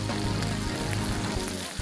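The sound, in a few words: frying raisins and nuts in ghee in a nonstick pan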